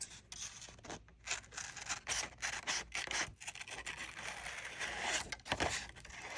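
Scissors snip through paper at close range during a paper quilling craft, a string of quiet crisp cuts and rustles in an irregular rhythm with no talk.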